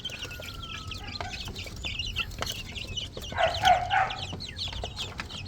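Rhode Island Red chicks clucking and cheeping in a farm setting, a busy scatter of short bird calls with a louder burst of clucking near the middle, no talk.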